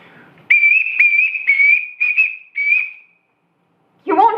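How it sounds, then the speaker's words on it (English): A shrill whistle blown in a large house to summon someone: five sharp, steady blasts in quick succession, loud and close, followed by a pause and then a voice. "Everyone in this house answers to a whistle."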